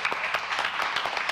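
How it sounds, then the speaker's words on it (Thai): Audience applause at a Thai cooking competition, a brief burst of dense, steady clapping from a crowd, fairly loud and close, with no speech over it. "ขอเสียงปรบมือดังๆให้กับน้องยอดเยี่ยมครับ"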